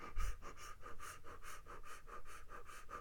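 Rapid, shallow panting breaths imitated by a person, like the fast breathing used in a pulmonary function test, repeating steadily and close to the microphone for a few seconds, alone without speech.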